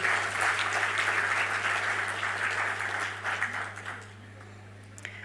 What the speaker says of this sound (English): let's give a heartfelt round of applause to all the parents and families who have made this day possible